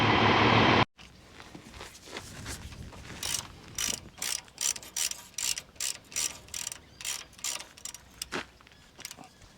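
Ratcheting on a nut of an Agrifac crop sprayer, a close series of quick metallic clicking bursts in an uneven rhythm, following a brief loud noise at the start.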